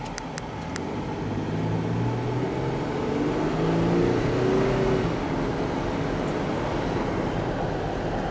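A 2005 Pontiac Aztek Rally Edition crossover driving, heard from inside as a steady low engine and road drone with a faint rise in revs partway through.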